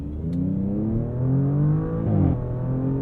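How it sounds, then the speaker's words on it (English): A 2023 Audi S6 engine pulls hard under full throttle, its steady mid-pitched snarl rising through upshifts, with a brief dip and recovery at each gear change, loud and close with no talk. "Snarl! Snarl on those upshifts."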